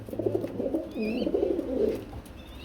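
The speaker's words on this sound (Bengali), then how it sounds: "খুবই বড় সাইজের কবুতর বন্ধুরা দেখতে পাচ্ছেন" Large pigeons coo in soft, throaty rolling phrases close by, with a faint higher chirp in the background and no talking.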